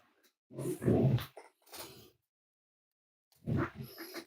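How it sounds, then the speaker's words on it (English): A dog lets out a few gruff barks and grunts nearby, in two short bursts separated by silence, loud and close during a home livestream of a baseball card case break. "dog interruption"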